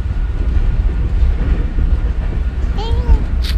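Inside a passenger train in motion on the route from Islamabad to Sindh, a steady low rumble of the carriage fills the space, joined near the end by a brief high squeal.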